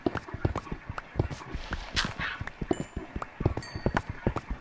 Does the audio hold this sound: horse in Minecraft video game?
yes